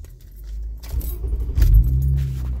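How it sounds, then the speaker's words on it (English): A car engine being started with keys: keys jangle briefly, then the engine cranks and catches into a low, steady idle rumble, close and fairly loud, with no talking. "So I'm gonna start the car up."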